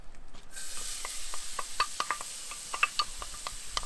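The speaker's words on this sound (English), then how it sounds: "Now go in with your onions" Chopped onions drop into a hot pan of pheasant juices on a Big Green Egg kamado grill, setting off a steady close sizzle with scattered scraping and stirring clicks throughout.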